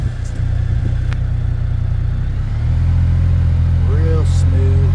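Engine of a 2025 CF Moto U10 Pro UTV accelerating in high gear: a loud, close, steady low drone that steps up in pitch and strength partway through, with a brief higher whine near the end.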